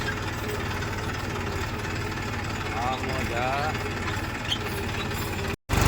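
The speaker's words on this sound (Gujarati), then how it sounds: "તો હવે આગળ ટ્રેક્ટરને ખેંચવાનું છે, તો આપણે ખેંચી અને આગળ લઈ લઈએ" A tractor engine running steadily at a low, throbbing idle with a knocking pulse, continuous and close, while people talk briefly over it.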